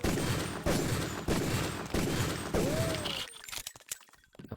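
Rapid, loud gunfire in a video game pounds into a wall, a steady run of heavy repeating shots that breaks off near the end into scattered clicks and quieter sounds.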